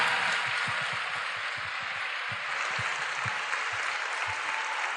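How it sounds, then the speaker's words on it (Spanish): An audience at a pro-life festival in Puebla applauds steadily, a dense wash of clapping with scattered low thumps running beneath it throughout. "Un aplauso."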